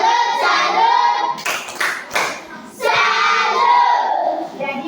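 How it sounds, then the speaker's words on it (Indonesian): A classroom of students clapping for a classmate after her presentation, with children shouting and chattering alongside bursts of hand claps that rise, dip briefly, and swell again. "Tepuk salut untuk Monica."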